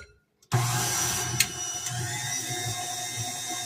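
A stand mixer kneading whole wheat bread dough made from fresh milled flour on speed 2, kicking in abruptly after a moment of quiet and then running as a steady, loud motor whir with a slight rhythmic churn.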